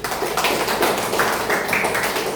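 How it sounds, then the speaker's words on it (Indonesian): Children clapping together in a classroom, a steady patter of many hands at moderate volume, with faint vocal sounds underneath. "Tepuk tangan buat aku"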